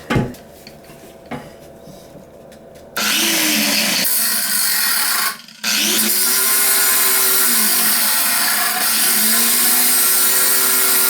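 Grinder used on a toilet repair, a few metallic clanks followed by a loud sustained high-pitched motor whine that cuts out briefly and starts again, no talk.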